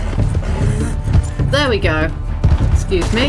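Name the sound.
horse galloping and jumping in video game Red Dead Redemption 2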